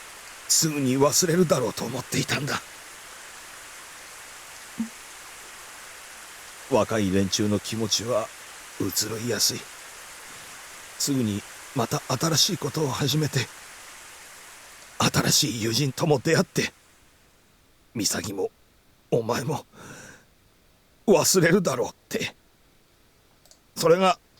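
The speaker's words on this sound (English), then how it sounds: "The rain! The rain loops!" A looping rain effect from the visual novel If My Heart Had Wings hisses as steady, even noise under frequent bursts of spoken dialogue, then drops out abruptly partway through, leaving near-silence between the voices.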